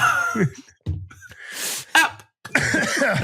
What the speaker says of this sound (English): It sounds like we got a couple people in this brief with a cough